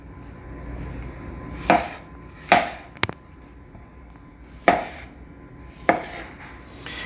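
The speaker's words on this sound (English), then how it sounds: "Now I'm gonna show you how to cut a tomato." A knife cuts a tomato on a board, giving about five sharp separate chops spaced a second or so apart. The chops are close and clear over a quiet kitchen background with no talk.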